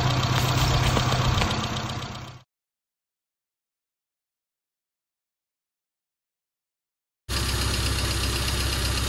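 A car engine on point ignition idles smoothly and evenly, close and loud, cutting out abruptly for several seconds before resuming just as steadily.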